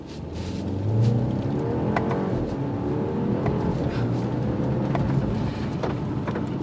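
A 2023 BMW 530i cruising on the road, its engine a steady low drone with rising and falling harmonic tones and tyre roar running throughout, moderately loud and free of speech.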